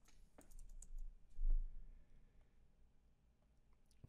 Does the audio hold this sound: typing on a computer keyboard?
yes